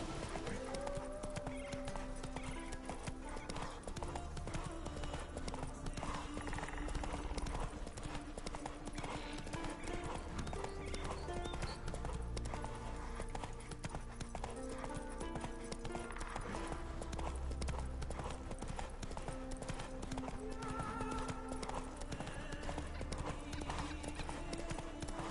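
Roach the horse in a video game trots with a steady rhythmic clip-clop of hooves, with a brief whinny, beneath game music and ambience.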